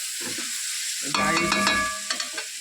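Chicken biryani stirred in a hot pot gives a close, steady sizzle with scraping strokes in the middle and a few lighter stirs after. A voice speaks briefly at the start.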